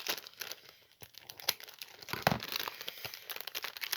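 A parcel pouch is cut open along its side, making close, quiet crinkling and tearing scratches of plastic and paper in short irregular bursts, with no talk.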